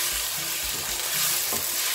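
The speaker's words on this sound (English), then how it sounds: "I'm going to add in the noodles" Instant noodles stir-frying in a hot pan, a steady loud sizzle with brief scraping tosses from the utensil, no voices.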